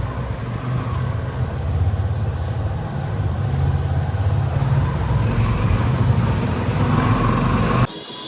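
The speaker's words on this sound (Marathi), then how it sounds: "ते खूप मजबूत ट्रॅफिक लागलाय" Heavy roadside traffic noise in a jam, with a dense continuous rumble of car, truck and bus engines, loud and steady for about eight seconds before cutting off abruptly near the end.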